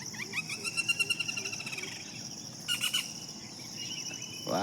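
Many birds chatter and call together from close by, with rapid repeated chirps and a steady insect-like trill in the background.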